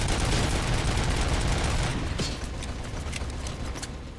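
Machine gun turret in the video game RoboCop: Rogue City firing continuously in loud bursts that ease somewhat toward the end, with sharp individual shots standing out.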